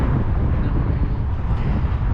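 Steady, loud wind by the sea buffeting the microphone, a constant low roaring rush with no pauses.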